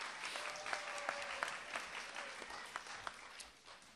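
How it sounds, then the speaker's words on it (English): An audience at a spelling bee claps steadily in a room, a moderate round of applause with scattered sharper claps that fades slightly toward the end. "Give them a round of applause, please."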